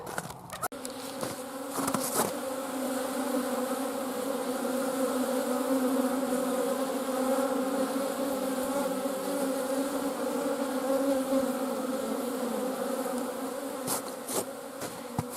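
A loud, dense swarm of honeybees working outdoors in January hums continuously for the whole stretch, with a few sharp knocks at the start and end.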